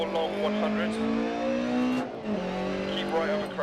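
Rally car in the Dirt Rally video game on a Monte Carlo stage, its engine revving hard with pitch climbing and dropping through gear shifts, loud and continuous, with a voice talking over it.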